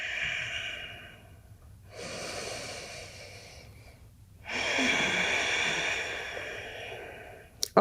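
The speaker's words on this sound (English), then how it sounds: "breathing deeply" Slow, deep yoga breaths, one long breath cycle after another with a quiet pause between, soft and close, alone without talk.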